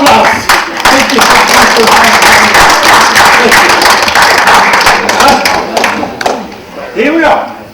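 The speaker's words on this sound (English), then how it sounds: "You don't get any money. You get a big applause." Big round of applause from a lecture audience in London, dense steady clapping filling the room for several seconds before tapering off near the end.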